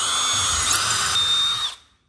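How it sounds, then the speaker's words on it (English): A power drill whines at high speed as it bores straight through a cabinet door backed by scrap wood, a loud, steady close-up drone that spins down and stops after under two seconds. "And all you gotta do is drill straight through."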